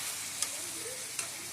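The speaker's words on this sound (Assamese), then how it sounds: "কেঁচা আমি ব্ৰইলাৰ ভাজি আছোঁ।" Raw broiler chicken fries in a pan with a soft, continuous sizzle, broken by two quick scraping taps of stirring, heard close up and without talk.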